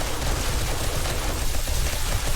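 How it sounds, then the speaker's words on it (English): Rapid, dense bursts of gunfire-like explosions from the video game 7 Days to Die, a continuous crackling barrage that stays loud and unbroken throughout with no voices over it. "I got explosions again, making me nervous."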